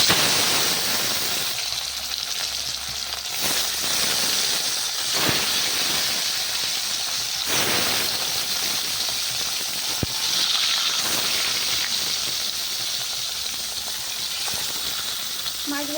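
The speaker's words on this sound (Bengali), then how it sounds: "রুই মাছগুলো এক এক করে ছেড়ে দেবো।" Rohu fish pieces, rubbed with salt and turmeric, sizzling in hot oil in a wok, a steady broad hissing fry that runs unbroken and fairly loud, with brief louder surges as pieces drop in.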